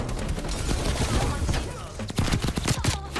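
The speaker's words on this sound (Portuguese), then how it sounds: "Eu só sei que eu tô tomando tiro de tudo que é lado." Dense, rapid video game gunfire crackles continuously from several directions, sharp bursts layered over a busy game soundscape with no one talking.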